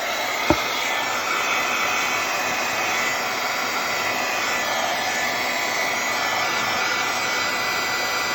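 A hair dryer blows steadily on a junk journal page, a loud continuous whooshing roar that holds unchanged throughout with a single faint click near the start.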